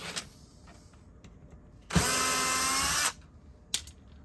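A power drill whirs in a single steady burst of about a second to back screws out of an MST CFX-W LCG RC crawler chassis, close and loud, with brief clicks before and after.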